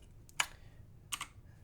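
Two sharp mechanical key clicks on a budget RGB gaming keyboard, one press and then another about 0.7 seconds later, close and crisp against quiet room tone.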